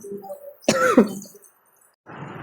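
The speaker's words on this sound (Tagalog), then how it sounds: "Excuse me muna, uubo muna." A single harsh cough, close and loud, followed by a brief pause and then a low hiss of background noise.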